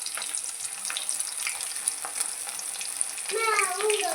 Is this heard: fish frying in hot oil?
yes